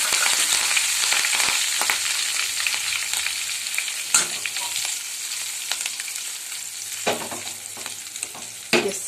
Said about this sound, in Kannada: ಉಳಿದಿರೋ ಸ್ವಲ್ಪ ಎಣ್ಣೆಗೆ ಈಗ ನಾನು ಏನು ಮಾಡ್ತಾ ಇದ್ದೀನಿ, ಸಾಸಿವೆ ಮತ್ತು ಜೀರಿಗೆನ ಸೇರಿಸ್ತಾ ಇದ್ದೀನಿ